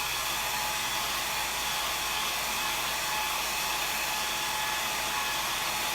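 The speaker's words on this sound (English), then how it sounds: "let me hit this with a blow dryer" A hair dryer blows steadily on freshly painted vintage-green gallery wall pieces, a loud, continuous, even whoosh with no break across the whole stretch.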